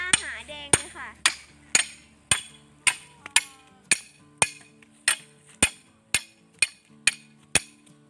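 Bamboo stakes are hammered into the ground while a dirt road is laid out for a garden home. Sharp, loud hammer strikes ring out at a steady, even pace, about sixteen blows in all, close to the microphone.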